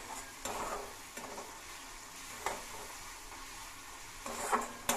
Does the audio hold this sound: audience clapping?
no